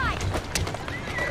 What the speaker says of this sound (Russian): Лошадки, терпите!